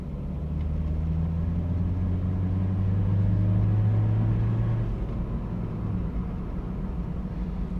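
Volkswagen Polo fitted with a swapped 2.0-litre TDI diesel engine driving past, a steady low droning rumble whose pitch slowly climbs and then eases off, heard alone without talk.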